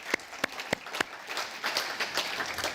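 Applause from a conference audience at a human rights event, beginning with a few distinct, separated claps that swell into a steady patter of clapping over about three seconds.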